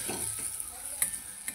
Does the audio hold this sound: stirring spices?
yes